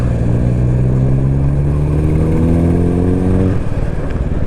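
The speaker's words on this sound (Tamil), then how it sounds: "என்ன சவுண்டுங்க, எக்ஸாஸ்ட் சவுண்டு." Loud, close exhaust roar from a modified Skoda Octavia vRS or a Royal Enfield Classic 350 on a road ride, with engine pitch rising steadily through a pull before dropping sharply near the end.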